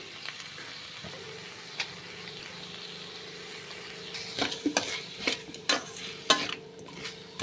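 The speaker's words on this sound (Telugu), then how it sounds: "కొద్దిగా లో ఫ్లేమ్లో పెట్టుకొని అంతా వేయించేసుకోవాలండి" Bitter gourd fried with a ground spice powder of coriander, coconut and sesame in a pan over a low flame, giving a soft steady sizzle with sharper stirring scrapes and clinks that grow busier toward the end.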